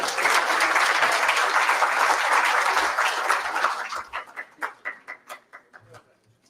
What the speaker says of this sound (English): Another round of applause for our guests this afternoon.